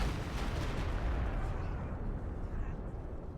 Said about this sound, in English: Howitzer barrage comes in over here